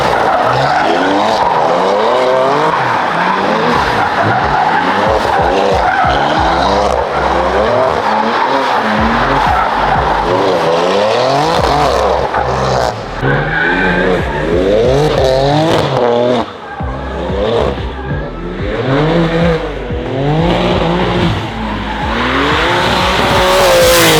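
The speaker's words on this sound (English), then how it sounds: "the first donuts in the G82, and I'm not the one doing it" A tuned, high-mileage BMW M4 Competition G82 does donuts, its engine revving hard and wavering while the tires skid and squeal continuously, loud and close, with a brief dip near the end.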